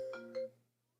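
A phone line rings with an incoming call during a live talk show, giving two short electronic tones over a low hum before fading out, faint and alone.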